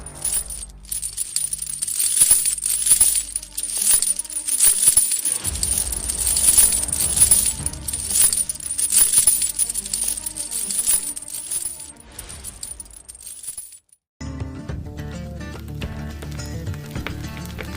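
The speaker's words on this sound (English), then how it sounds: "Billy's words were dwarfed by the noise of rattling chains" Metal chains rattle and clink continuously for several seconds, bright and jangling, then give way to a lower, steadier rumble near the end.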